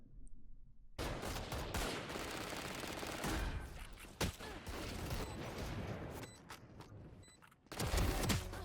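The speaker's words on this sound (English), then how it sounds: "Isn't that because he's shooting in the smoke?" Rapid bursts of gunfire from the tactical shooter Valorant, played on the Pearl map with smoke, sound loud and near, with sustained automatic fire and a brief pause before a final heavy volley.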